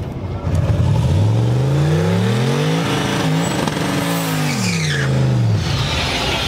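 A drag racing car launches hard down the strip, its loud engine note climbing steeply through the gears with a brief dip between shifts, running continuously for several seconds with no voices.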